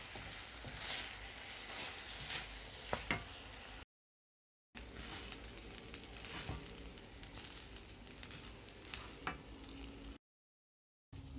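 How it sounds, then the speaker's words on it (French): Rice tipped into a pan of frying chicken and vegetables, sizzling steadily with scraping stir strokes and a few sharp clicks, broken by two brief silent gaps. "Maintenant, je vais rajouter le riz. Je vais faire le mélange"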